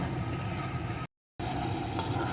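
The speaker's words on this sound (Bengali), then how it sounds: "অল্প আছে 2 মিনিট মতো আমি চিংড়ি মাছটাকে ভেজে নিয়েছি।" Prawns fry in hot oil in a pan, giving a steady, close sizzle that cuts out briefly to silence midway before resuming at the same level.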